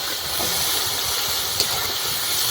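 Chopped onion dropped into hot oil with whole cumin gives a loud, steady sizzling hiss that runs unbroken the whole time.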